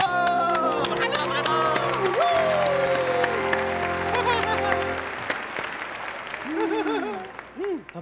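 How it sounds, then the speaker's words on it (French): Applause and cheering from a cartoon crowd at an Olympics-style event, clapping under overlapping sustained tones and voices, thinning out toward the end as speaking voices take over. "Allez, on l'applaudit bien fort."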